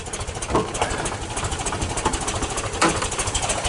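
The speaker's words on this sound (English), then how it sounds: "The 2-liter 60 horsepower twin carburetor Solex carburetor engine" The 2-liter, 60-horsepower twin Solex carburetor engine of a 1977 Volkswagen Sunliner campervan idles steadily nearby, a continuous even pulsing chug with a couple of slightly louder beats and no voices.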